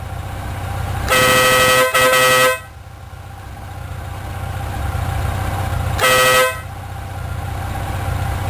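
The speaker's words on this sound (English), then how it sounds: "Now that's a horn." Two loud honks from a Stebel motorcycle horn on a Yamaha FJR1300, the first held about a second and a half with a brief break, the second shorter, over an idling engine.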